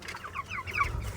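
Chickens on a small farm cluck in a quick, close series of short calls over low background rumble.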